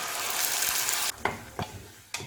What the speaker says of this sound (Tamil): அரைச்சி வச்சிருக்க தக்காளி சேர்த்துக்கலாம்.